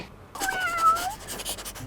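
A cat gives one drawn-out meow at close range, rising and falling briefly before trailing off into room noise.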